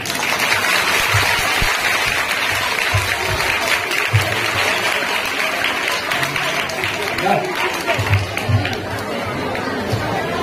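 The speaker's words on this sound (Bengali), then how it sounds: "এবং শুধু এটার জন্যে আমি তোমাদের সবার জন্যে সবাইকে বলবো একটা ভালো জোরে হাততালি দিতে।" Students and teachers at Rathtala Rajlakshmi Balika Vidyamandir school clap loudly together, a dense, steady wave of applause filling the room for about ten seconds, with murmured chatter mixed underneath.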